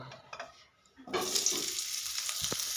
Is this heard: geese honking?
no